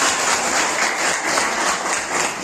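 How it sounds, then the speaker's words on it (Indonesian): Dense, continuous clapping from a classroom group fills the whole stretch, steady and fairly loud with no pauses. "Bagus, tepuk tangan."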